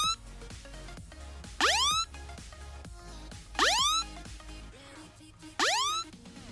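iPhone emergency SOS alarm on iOS 10.2, set off by pressing the lock button five times: a repeating electronic tone pattern with three loud rising siren-like swoops spaced evenly over a steady low pulse.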